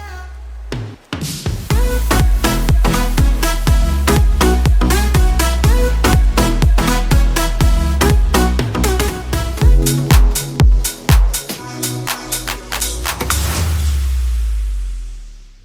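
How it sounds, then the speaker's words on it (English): An alarm clock rings in a rapid, dense run of repeating electronic tones, loud and close, continuing for about fifteen seconds before cutting off. "Oh, that's the sound of my alarm clock"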